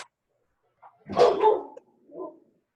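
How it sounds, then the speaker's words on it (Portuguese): A dog barks a few times indoors, one short yip followed by a louder burst of barks and a softer final bark, with no talking over it. "É o cachorro. Gente, desliga o áudio. Tô ouvindo o cachorro."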